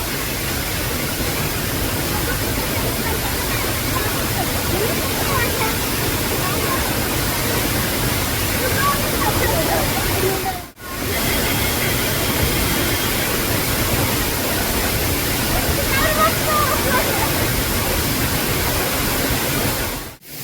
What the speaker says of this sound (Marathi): मागे बघा किती मस्त वॉटरफॉल आहे